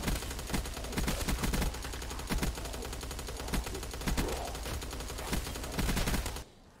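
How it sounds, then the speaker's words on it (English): Death Machine minigun firing in Call of Duty Black Ops 3 Zombies on a custom cabin-in-the-woods map, a loud dense stream of rapid shots in several sustained bursts that cut off abruptly near the end. "Death machine, baby. This gun is so good."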